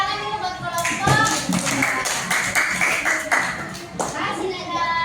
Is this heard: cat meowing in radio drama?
no